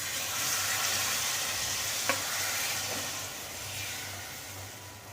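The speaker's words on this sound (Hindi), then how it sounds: "अब इसमें हम ऑयल डालेंगे। अब बैटर को डाल देंगे।" Eggless vegetable omelette batter sizzling in oil on a hot tawa, a steady broad hiss with a faint clink midway, continuous and close.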